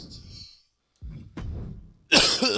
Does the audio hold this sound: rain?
no